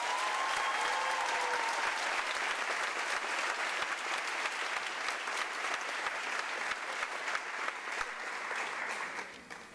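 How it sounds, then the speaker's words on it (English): An audience at a high school awards ceremony claps for four performing arts students. The broad, even applause stays loud and sustained before tapering off at the very end. "Please again clap for the performing arts."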